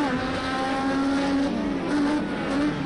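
IndyCar race cars in Project CARS 2 lap Laguna Seca, their engines holding a loud, steady high whine with small pitch shifts as they run close together.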